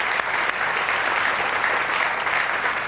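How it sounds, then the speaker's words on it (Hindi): Loud, steady applause from a studio audience on a Hindi game show, dense clapping filling the whole stretch without a break. "जोरदार तालियां उनके लिए।"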